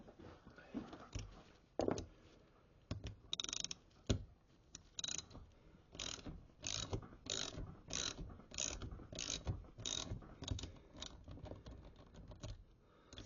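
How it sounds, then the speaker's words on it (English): A ratchet wrench clicks in repeated short runs while a Sturmey Archer 4-speed heavyweight gearbox is installed, with bursts of close, crisp ratcheting coming in a steady rhythm. "I'm going to go and grab a ratchet."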